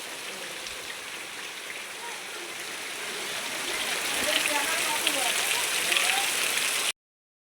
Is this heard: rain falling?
yes